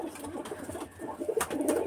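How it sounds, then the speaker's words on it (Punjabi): Pigeons cooing softly at close range in a home loft, low rolling coos repeating a few times over a faint background, with no talking. "ਇਹ ਦੇਖੋ ਇਹ ਕਬੂਤਰ ਹੈ"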